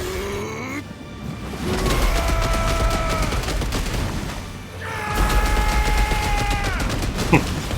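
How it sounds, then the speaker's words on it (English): Rapid crackling bursts like gunfire ring out in a Final Fantasy XVI battle, over a loud, sustained sweep of tonal game effects with ringing pitched layers. "Sounds like a gunfire, almost."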